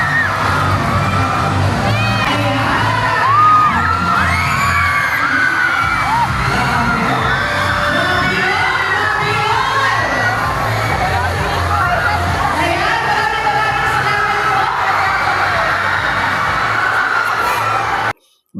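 A large crowd of spectators at the Tarictic Festival basketball exhibition cheers and shouts loudly as the Timistan players enter, with whoops and excited voices in a sustained roar that drops off abruptly at the end.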